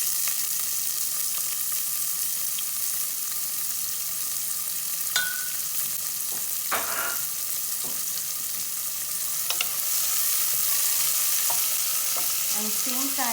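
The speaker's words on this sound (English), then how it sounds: "So now I will add some onion." Chopped onion with hing and whole spices for aloo gobi fries in hot oil, a steady close sizzle with occasional light scrapes and taps of a spoon, no talking.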